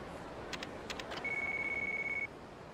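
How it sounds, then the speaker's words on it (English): A phone rings in the video game Yakuza Kiwami: a few short chirps, then one steady electronic tone that holds for about a second, heard clearly over a quiet game background. "Getting another phone call."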